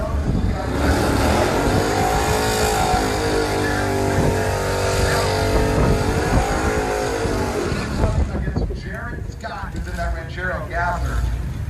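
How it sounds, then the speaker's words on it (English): Drag race car doing a burnout during Drag Week 2019: a loud, sustained roaring engine with screeching tires that cuts off near the end, followed by a commentator speaking. "One of the better burnouts he's done all week."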